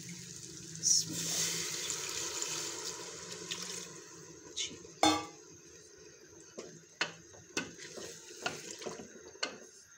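Water is poured into a pot of mutton, pea and potato curry during cooking, a soft splashing rush early on, followed by scattered clinks and stirring knocks.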